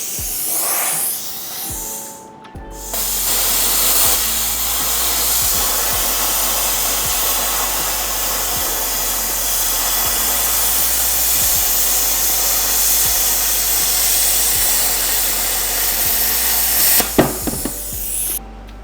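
A YESWELDER Cut-55DS plasma cutter keeps blowing air after a cut, a loud, steady close hiss with a low electrical hum that starts abruptly and runs on, with a few faint clicks and knocks.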